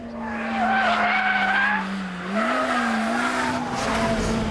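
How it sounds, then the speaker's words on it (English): A high-revving, naturally aspirated sports car engine howls near its 8,200 RPM limit, loud and close, holding a steady tone with a brief dip and rise partway through, and no one speaking. "This is what I call mechanical music, none of those twittering turbos or whining superchargers."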